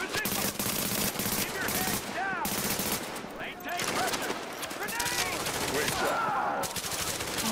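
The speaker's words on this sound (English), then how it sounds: "I'm getting shot at." Rapid automatic gunfire and bursts of shots from The Division, a shooter video game set in Grand Central Station, rattling continuously across the whole stretch with a player's voice talking over the battle.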